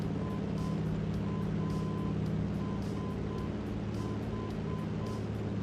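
Navigation radio beeps in a Cessna 150 flight simulator repeat as short evenly spaced tones, steady and faint, over a loud continuous engine drone.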